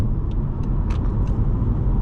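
Road traffic rumbles steadily during a morning drive, a constant low engine and tyre drone with faint brake hiss and passing-vehicle noise on top.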